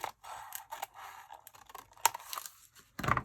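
Scissors cut paper at an angle for a handmade upcycled Christmas journal, making quiet, close, intermittent snips and crisp paper rustles with short pauses between cuts.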